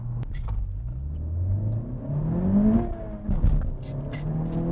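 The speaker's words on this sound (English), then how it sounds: "let's see how fast this 2021 Honda Civic Type R is, 0 to 100" A 2021 Honda Civic Type R launches from 0 to 100. Its engine note climbs steadily in pitch, breaks at a quick gear shift, then pulls upward again, close and loud with no talking.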